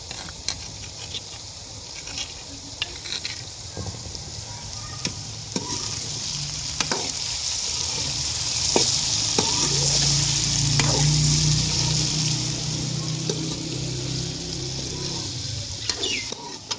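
Onions, tomatoes and green chillies fry with okra in a pan at a village home, a close, steady sizzle punctuated by sharp clicks of stirring, swelling louder midway.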